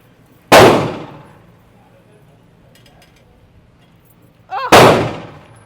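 Two loud handgun shots fired at a target, one near the start and another about four seconds later, each a sharp crack with a decaying ring, with quiet between them.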